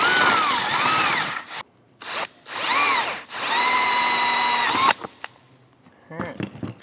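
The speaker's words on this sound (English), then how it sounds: "now I can use my 2-inch hole saw and run through here" A 2-inch hole saw on a power drill cuts through a factory aftermarket light mount, whining loudly in several long bursts with short pauses, then fading into quieter handling noises at the end.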